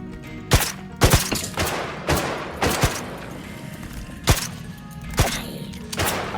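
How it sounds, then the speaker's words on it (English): Skeleton and zombie mobs in Minecraft firing at a raised shield, giving about eight sharp, hard thuds at uneven intervals, close and fairly loud with no voices. "How are they shooting through the shield?"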